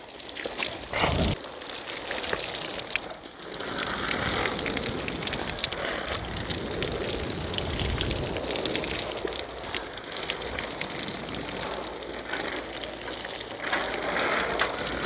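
Water sprays and splashes onto plants in a steady hissing gush, close and continuous, briefly pausing near the start.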